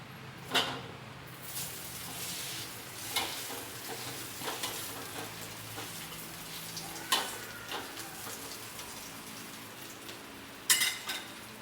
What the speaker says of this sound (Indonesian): Kita gongseng ya terasinya